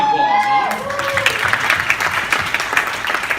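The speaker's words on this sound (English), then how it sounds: "Give him a round of applause, huh?" Audience applause at a business seminar, a steady dense wash of clapping from a room of people, loud and continuous, with a voice briefly audible at the start.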